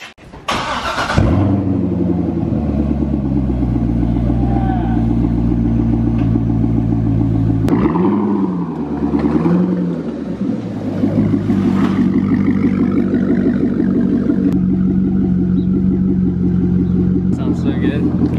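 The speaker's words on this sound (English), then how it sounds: "We're about to take it off the stands and roll it outside and let it idle for a little bit." A Chevrolet Corvette with its muffler deleted starts and settles into a loud, throaty idle, with a brief rise in revs partway through, the rumble steady and close throughout.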